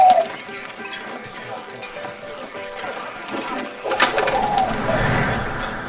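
Pigeon cooing in the video game 11-11 Memories Retold, soft repeated coos over quiet ambience, with a louder rustling burst of wing or movement noise near the end.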